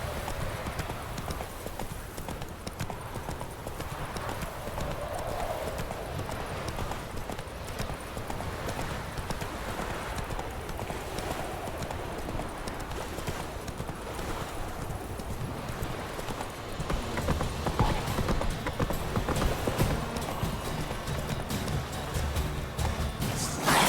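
Hooves of the horse Roach in The Witcher 3 game, a steady clip-clop of trotting under a dense wash of ambient game sound that grows somewhat louder toward the end.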